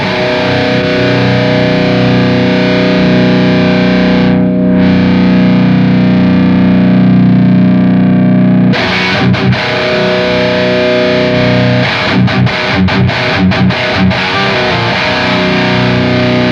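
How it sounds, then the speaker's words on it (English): Electric guitar driven by an overdrive pedal into an amp's rhythm channel in the Archetype Rabea plugin, heavily saturated: sustained distorted chords ring, then give way to choppy, palm-muted rhythmic chugs, loud and alone. "I'm really using the overdrive, just as you would in the real world, in front of that amp to really push the saturation."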